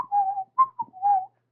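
A person whistles a short rhythmic phrase of clear pitched notes in separate bursts with brief gaps, close and alone.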